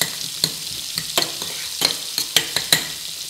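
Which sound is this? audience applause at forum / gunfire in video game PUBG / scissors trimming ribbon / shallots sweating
shallots sweating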